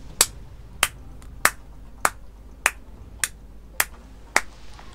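Eight sharp hand claps ring out one at a time at a slow, even pace, crisp and close in an otherwise quiet room.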